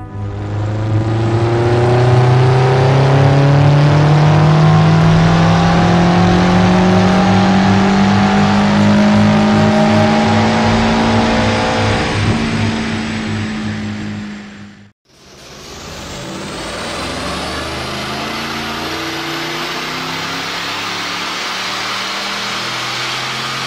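A BMW X5 M performance SUV engine revs and accelerates hard, a loud rising roar that climbs through gears, briefly cuts out, then resumes with another strong pull.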